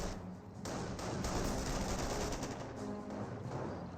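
Company of Heroes battle gunfire aimed at Panzer Grenadiers, a dense and loud burst of rapid machine-gun rattle and shots lasting a few seconds with no voices.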